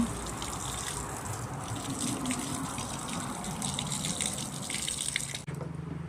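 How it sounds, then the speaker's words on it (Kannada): Water from a hose gushes and splashes steadily as a car's tires, wheel wells and body are washed, a continuous close spray with no talking. "ಪೈಪೆಲ್ಲ ಎಳೆದೆಲ್ಲ ಮಾಡ್ತೀರಾ ಅಲ್ಲ? ಅಲ್ಲಿ ಒಳಗಡೆ ಟೈರ್ ಹತ್ರ ಮಣ್ಣು ಇರುತ್ತೆ, ಅದೆಲ್ಲ ತೊಳಿಬೇಕು"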